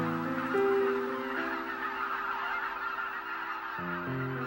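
A flock of geese honking in a rainwater basin marsh, many overlapping nasal calls forming a dense, continuous chorus at moderate distance, no voices present.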